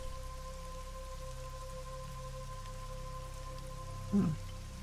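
Steady rain patters as background ambience during a tabletop role-playing game session, constant and even, with low tones humming underneath and one brief soft knock near the end.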